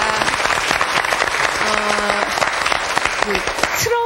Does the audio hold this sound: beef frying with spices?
no